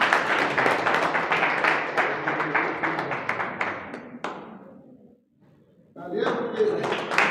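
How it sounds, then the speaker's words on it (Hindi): An audience applauds Mr. Jile Singh at an RCM team gathering, with dense, sustained clapping that fades into a brief lull before a fresh burst of claps returns near the end. "मिस्टर जिले सिंह के लिए मैं चाहूँगा जोरदार तालियां"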